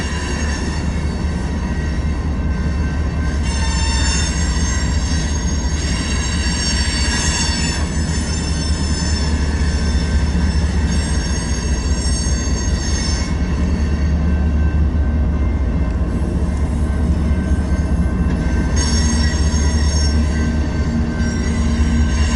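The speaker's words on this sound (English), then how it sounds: "Sorry, Bradley, I'm right in the middle of recording a train, buddy." A train rolls past close by with wheels squealing on the rails, a loud, steady rumble and metallic screech that hold for the whole stretch with no voices.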